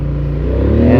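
A Polaris Sportsman 850 ATV engine drones steadily on a test ride in two-wheel drive and high range, its note swelling slightly louder toward the end, close and alone.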